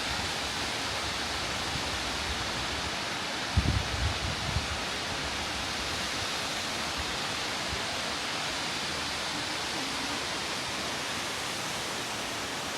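A waterfall in Germany's Black Forest, heard as a broad steady roar of rushing water from a distance, with a brief rustle partway through.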